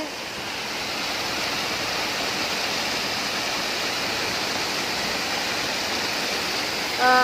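Water rushes steadily through an irrigation channel toward village farm fields, a continuous broad close roar with no pauses and no talk.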